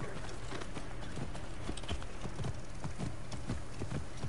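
Steady clip-clop of horse hooves from Assassin's Creed Origins, a trotting rhythm of evenly spaced thuds over a constant background wash, close and moderately loud throughout, with no talking.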